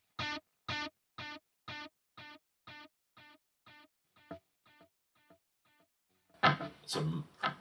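A short guitar note repeats as a delay, about a dozen echoes fading steadily in volume, followed by a loud burst of distorted, swirling feedback.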